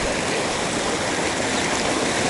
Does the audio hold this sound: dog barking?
no